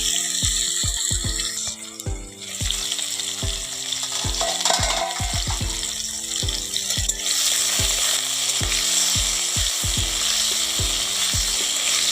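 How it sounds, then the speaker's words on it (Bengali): Food frying in a pan: a loud, steady sizzle runs throughout, with regular clacking taps of a spatula or utensil against the pan, close by and with no voices. "একটু ভালো করে ভেজে নেব"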